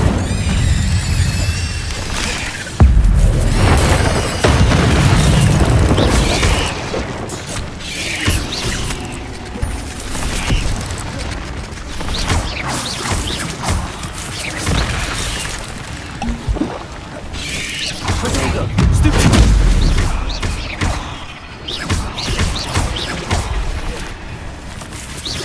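Incendio fire spell cast repeatedly in Hogwarts Legacy, bursts of whooshing flame and crackling blasts amid combat clatter, booms and background music, with some voices.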